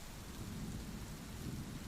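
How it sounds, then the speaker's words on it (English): Steady rain beats against a window pane while thunder rumbles low beneath it, a dense, continuous wash of storm sound with no voices. "The rain. You can hear it, can't you? Against the window pane."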